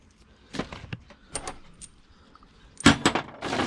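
Brand-new bolts rattled and rummaged in a workshop drawer, a few bursts of metallic clinking and jangling separated by quiet gaps, close and fairly loud.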